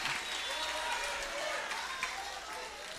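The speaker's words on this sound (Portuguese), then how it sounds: "Aplauda Ele nessa manhã" A church congregation applauds during a morning worship service, a steady wash of clapping that continues without a break for the whole stretch, with voices mixed in underneath.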